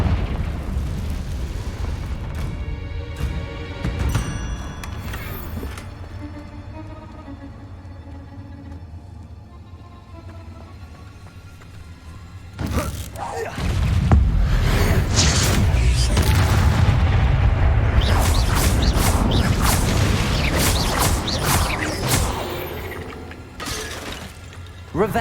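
Confringo blasting spells explode in the video game Hogwarts Legacy: a quieter stretch of mechanical clanking gives way to a loud run of booming, shattering bursts that keep going for about ten seconds.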